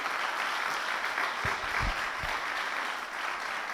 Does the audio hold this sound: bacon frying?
no